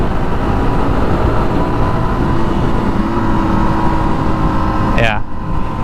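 A car engine held at high revs, around 6,000 RPM at a topped-out speed of about 60 mph, drones loudly and steadily throughout, with a brief sweeping tone near the end.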